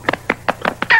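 A cartoon cat imitates a chicken, giving a run of five quick clucking bursts in an even rhythm, then a louder, higher drawn-out squawk at the end, all close and clear with no talk.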